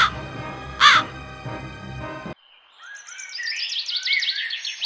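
A crow caws loudly in a Hindi cartoon, sounding once with a harsh, close call over a layered animated soundtrack. After a sudden cut, quieter chirping and twittering bird sounds take over.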